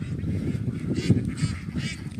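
Ducks on a farm in Isan, Thailand, honk and quack in a busy overlapping chorus, several close birds calling loudly in quick bursts.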